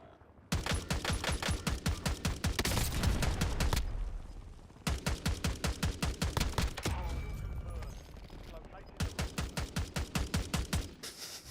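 Bursts of rapid automatic gunfire in a shooter video game, with loud sharp rattling volleys broken by short pauses and a quieter stretch midway.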